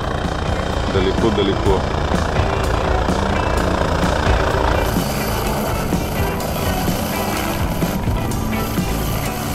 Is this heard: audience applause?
no